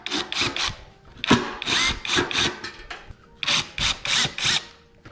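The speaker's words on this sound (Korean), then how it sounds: "나사를 한 개씩 풀어보겠습니다." A power drill backs screws out of an older Samsung washing machine during disassembly. It comes in short, bursty whirs, about ten separate spins in quick succession, each one starting and stopping sharply and close up.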